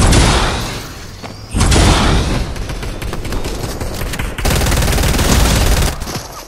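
Gunfire in the Fortnite video game: loud, dense rapid shots in several sustained bursts, separated by short drops in intensity and fading at the end.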